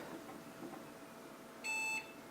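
A single short electronic beep sounds from an Asus P5L-MX computer during an operating system install, a clear tone lasting about a third of a second over a faint hum.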